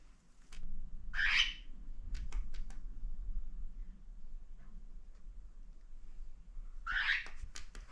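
Cockatiels give two short, harsh squawks near a homemade cardboard nest box with a lid, one early and one near the end, with quiet room noise and faint ticking in between.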